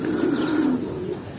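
Racing pigeons let out for a low flight give a brief, close cooing call over faint outdoor background.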